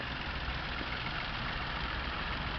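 A 1.2 petrol automatic car engine idles with a low, even rumble and faint mechanical ticking, steady and moderately quiet throughout with no voices.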